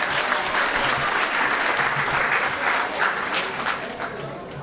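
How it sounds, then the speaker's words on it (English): An audience at an eighth-grade graduation claps in a dense, sustained round of applause that stays loud and even throughout. "I'd just like to give one more round of applause for Mr. Corey Marshall."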